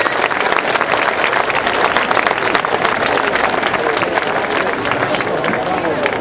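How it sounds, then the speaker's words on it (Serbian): An audience at an outdoor folklore concert festival in Bogatić applauds steadily and loudly for a full stretch, dense clapping with crowd noise throughout and a voice briefly heard over it. "Molim vas još jedan aplauz za naše drugare."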